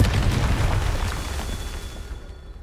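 A Confringo fire spell bursts in Hogwarts Legacy, a loud, close boom that rolls into a long, rumbling decay over a couple of seconds, with no talking.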